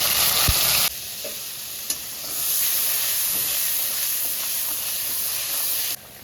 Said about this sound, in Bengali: তেলটা একটু গরম হোক তো দিয়ে দিচ্ছি কালো জিরা ফোড়ন দিয়ে দিচ্ছি পেঁয়াজ বাটা